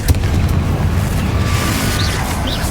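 A Confringo spell explosion in the Hogwarts Legacy video game: a loud, booming blast with a heavy low rumble that sustains for a couple of seconds, with faint magical whooshes above it.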